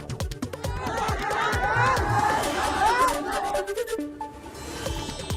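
Large village crowd gathered to watch a bullfight in Sonarpada, with overlapping chatter, shouts and whistles forming a lively, fluctuating hubbub close by.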